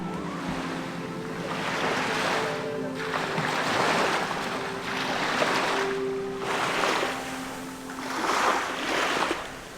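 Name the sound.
waves rolling in on the shore at night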